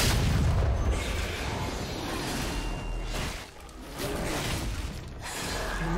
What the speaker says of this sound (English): Your team's turret has been destroyed.